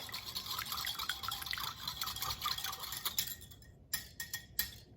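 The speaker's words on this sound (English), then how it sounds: "we're gonna whisk in a half a cup of olive oil" Olive oil is whisked into vinegar with Dijon mustard and kosher salt, making rapid, light rhythmic clinking and sloshing for a few seconds, followed by a few separate taps.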